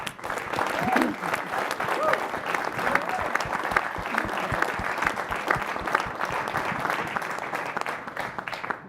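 A conference audience at a sub-national climate finance talanoa applauds steadily after a speaker's story, a dense, even wash of clapping that lasts throughout.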